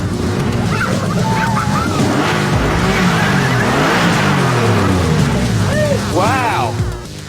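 A 2002 TVR Tuscan sports car engine roars and revs loudly up close, its pitch sweeping up and down, with a brief chirpy sound near the end.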